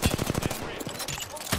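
Rapid automatic gunfire in the Apex Legends battle royale game, a quick burst of about six loud shots followed by scattered fainter shots and one final crack.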